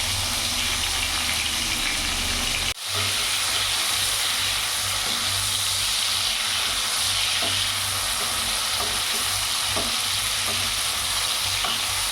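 Prawns frying in hot oil, giving a loud, steady, close sizzle and hiss throughout, with a brief break early on and occasional stirring clicks, no talk.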